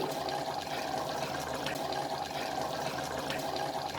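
Basmati rice is tipped into a pot of cooking vegetable masala for veg pulao, giving a steady close rushing, pouring wash that runs unbroken for several seconds with no talk.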